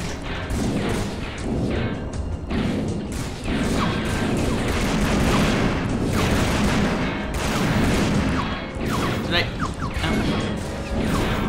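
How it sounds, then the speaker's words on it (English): Gunfire in the video game Hydrophobia: Prophecy comes as dense, repeated bursts of shots and crashing impacts that run for about eleven seconds, with a voice talking over parts of it. "Who's shooting at me?"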